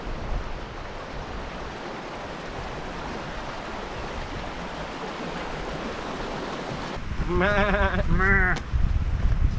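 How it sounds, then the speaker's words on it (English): Baby sheep bleat twice in quick wavering calls near the end, over a constant rushing background of wind or a mountain stream on the climb up Carrauntoohil in Ireland. "Wee baby sheep."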